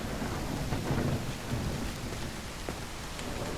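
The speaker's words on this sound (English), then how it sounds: "It's raining cats and dogs here." Steady rain with rolling rumbles of thunder fills a stormy night scene in the video game Call of the Elder Gods, a constant downpour close by with a louder low surge early on.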